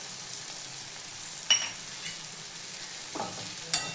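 Cluster beans being stirred in oil with spices and crushed peanuts, a soft scraping stir over a faint low sizzle, with a few sharper clinks of the spoon against the pan.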